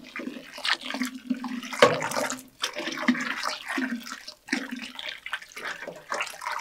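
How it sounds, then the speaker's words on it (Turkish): Cold water poured over freshly churned butter: fairly close splashing and gurgling in uneven bursts, with short gaps between pours. "kolay toplansın diye soğuk su döküyoruz"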